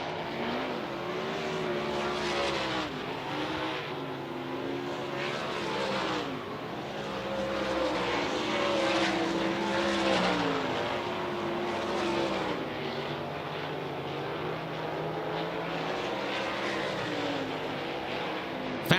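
A dirt draft race car on a hot lap at Utica-Rome, its engine droning steadily with rising and falling revs as it circles the track, loud and continuous throughout with no pause.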